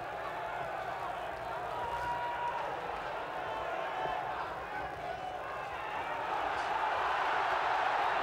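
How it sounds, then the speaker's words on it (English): A British boxing crowd at the Marvin Hagler versus Alan Minter fight keeps up a dense, continuous roar that swells louder toward the end, with scattered shouts mixed into the noise. "You'll hear this British crowd roar with every exchange, particularly if one exchange favors Mincher"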